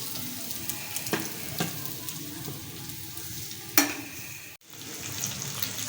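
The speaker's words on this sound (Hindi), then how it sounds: "अम्मी जो है इसकी कोटिंग करके इसको फ्राई कर रही हैं" Coated fish fingers frying in hot oil, a steady close sizzle with occasional stirring and scraping clicks, one sharp knock near the end, no voices.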